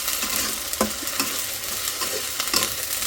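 Ginger garlic paste hitting a hot pan, a bright continuous sizzle broken by several stirring clacks and scrapes, close and unaccompanied by voices.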